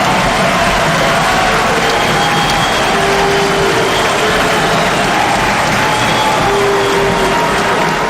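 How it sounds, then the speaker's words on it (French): A standing ovation from legislators and the public in Kinshasa's Congress after the president's state of the nation speech, a continuous loud crowd roar of clapping and cheering with occasional whoops. "et au public un standing ovation, des applaudissements pour ce discours plein d'espoir."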